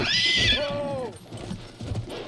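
A horse in the Battlefield beta lets out a loud, high whinny that drops in pitch, followed by softer low rumbling and faint movement.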